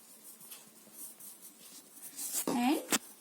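A pen scratches month names onto paper, faint scribbling strokes building to a couple of louder, sharper scrapes near the end, close up and quiet, with a voice speaking alongside.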